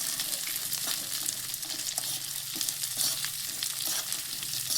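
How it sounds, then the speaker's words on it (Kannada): Dry fruits frying in ghee in a pan, a dense continuous bright sizzle with faint crackles and light stirring scrapes, close and steady with no speech. "ತುಪ್ಪದಲ್ಲಿ ಫ್ರೈ ಮಾಡಿಕೊಂಡು ತುಂಬ ಚೆನ್ನಾಗಿರುತ್ತೆ"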